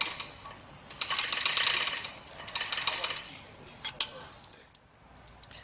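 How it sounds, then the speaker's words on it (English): A ratchet clicks in quick runs as bolts are tightened on a water pump motor, with a few sharp metallic knocks in between and faint room noise behind. "we'll go ahead and torque down the motor bolts."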